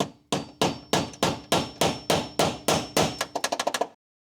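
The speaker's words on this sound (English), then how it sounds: "we'll go ahead and tighten these screws just a little bit more" Screws are tightened on the lower tray of a LiBCM FoMoCo kit install, giving a close run of about fifteen sharp, evenly spaced impacts that quicken into a rapid burst at the end, with no speech.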